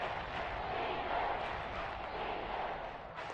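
Steady roar of a large Seahawks stadium crowd during a football game in the red zone on third down, a dense, continuous wash of voices at constant loudness.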